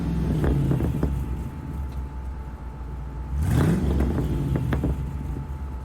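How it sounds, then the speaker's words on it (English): A car fitted with a new aftermarket exhaust revs up twice, nearby and loud, the engine note climbing and falling in short bursts over a steady low rumble. "this is what it sounds like now with the exhaust"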